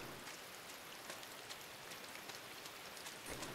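Rain in the video game Inside falls as a steady, faint, even hiss of drops striking the ground, continuous and alone, with only slight flickers of individual drops.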